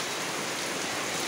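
Rain falls steadily in an even, dense hiss of drops that stays constant throughout, with no voices.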